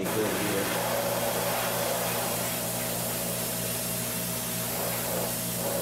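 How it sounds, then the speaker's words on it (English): An aerosol spray can hisses continuously and evenly at close range while paint goes onto a scale model of a Visitor ship from the 1980s V mini series. "Spraying really good here."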